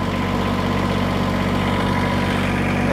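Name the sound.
tractor engine idling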